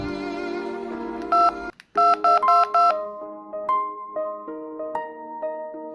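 A telephone rings with a loud electronic ringtone: a sustained tone, then a quick burst of sharp beeps, followed by a stepping tune of clear pitched notes, close and alone.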